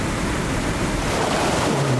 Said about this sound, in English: Paddling through the churning waters of the rapid, the athletes call the washing machine